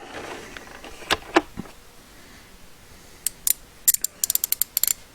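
Fine clicking from a 72-tooth socket wrench ratchet with a push-button socket release, first a few loud separate clicks and then quick close bursts of rapid ratcheting, with no talking.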